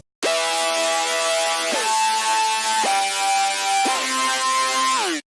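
A bright, sustained synth lead plays a slow melody following the chords of a future bass drop, sliding between held notes in one continuous line, loud and on its own.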